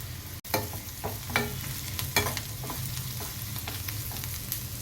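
Onions and turmeric fry in a pan for a Telangana-style buttermilk curry tempering, giving a soft continuous sizzle with a sharp utensil knock early on and a few stirring scrapes.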